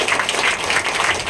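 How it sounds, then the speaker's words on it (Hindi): A church congregation at a Sunday service bursts into steady, loud applause: dense, continuous clapping from many hands, close and filling the room. "जोरदार ताली बजाइए"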